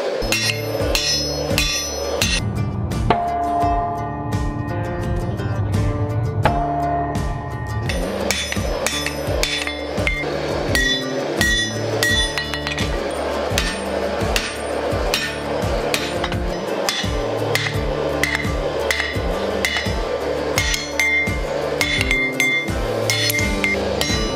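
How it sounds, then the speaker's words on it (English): Repeated ringing hammer blows on metal on an anvil while forging a battle axe, a rapid steady rhythm of bright clanging strikes close by, continuing for a long stretch with no talking. "when you hit your hammer on the anvil, it bounces back and hits you in the head"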